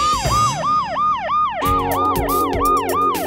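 A loud wailing siren sweeps up and down in a fast repeating cycle, then a second piercing siren layer joins partway through, both blaring close and continuous in an indoor scene with no speech.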